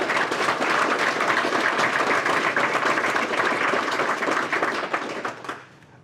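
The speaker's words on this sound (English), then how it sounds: "I think they deserve another quick round of applause for the hard work." A keynote audience at a London tech conference applauds in a sustained, dense burst of clapping that holds strong for about five seconds, then thins and fades out near the end.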